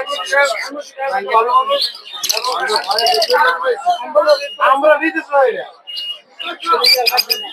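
Red opaline lovebirds at a busy bird market, a near, lively flock chattering and chirping in rapid overlapping bursts throughout, with sharp high tweets and no pauses longer than a moment.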